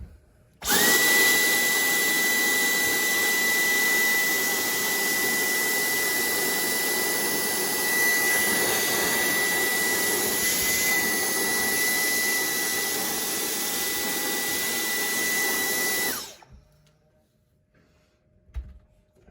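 A loud motor whines steadily for about fifteen seconds with a high constant tone, like a vacuum cleaner running close by, then cuts off abruptly.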